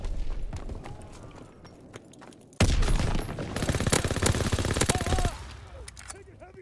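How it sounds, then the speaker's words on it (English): Heavy gunfire in Call of Duty: WWII, a loud burst of rapid automatic shots and explosions erupting suddenly mid-clip and holding dense for a few seconds before easing back to scattered distant shots. "Taking heavy fire!"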